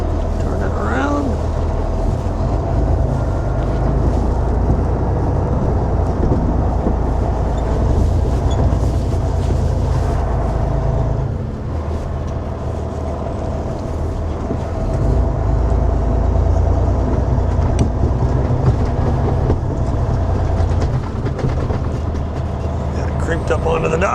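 An M916A3 Freightliner 6x6 military semi truck creeps onto a loading dock, its heavy diesel engine rumbling loud and steady at low speed from up close, with a voice talking over it.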